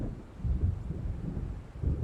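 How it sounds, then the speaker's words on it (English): In the Alan Wake video game, an approaching storm brings thunder: a low, steady rumble that swells and fades, with a windy wash and no other sounds. "It seems there's a storm coming."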